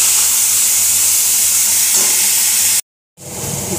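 Dry red chillies crackle into hot oil as a tempering for a Bengali fish dish, a loud close hiss that cuts out briefly, then returns slightly softer.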